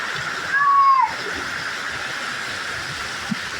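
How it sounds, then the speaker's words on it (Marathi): A monsoon waterfall above a trekking trail roars as a constant broad wash of falling water, with a short whistle and voices over it. "एकदम खतरनाक धबधबा आहे वरती."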